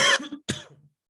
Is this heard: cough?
yes